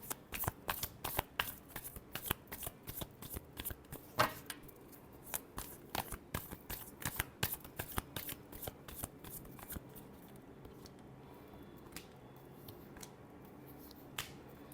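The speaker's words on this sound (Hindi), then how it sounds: "Last shuffle." Tarot cards are shuffled by hand in a steady run of quick crisp riffles and slaps, close and clear, thinning out into a few final taps near the end.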